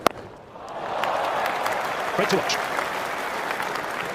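A cricket crowd roars and cheers steadily as Brian Lara walks out to bat at Lord's during the MCC vs Rest of the World bicentenary match, with a commentator speaking briefly over the noise.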